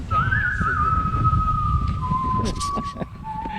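A long, sustained whistle at a hunting site signals that it is time to leave. It holds a steady tone for a few seconds, slowly dipping in pitch, over a windy background with voices talking.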